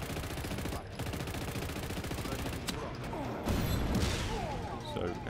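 Rapid gunfire aimed at a target in Just Cause 3, dense bursts of shots and impacts running throughout with a heavier crash toward the end, set against game background noise.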